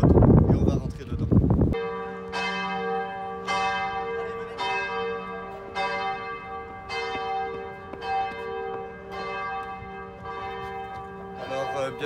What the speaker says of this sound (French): Je vous invite à me suivre à l'intérieur, au beau son des cloches